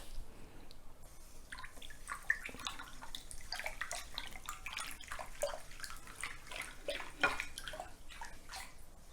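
Sea salt is stirred into lukewarm water in a bowl for kimchi brine, giving a quiet, continuous swishing and sloshing with small splashes, faint and close, with no voices.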